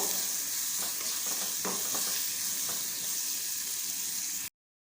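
Onions sauté with salt in a pan for a ragi flour rava tiffan, a steady close sizzle broken by a few soft scrapes of stirring, then cut off abruptly into silence just before the end, with no voices.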